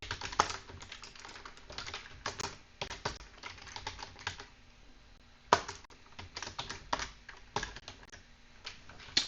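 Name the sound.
typing code on a computer keyboard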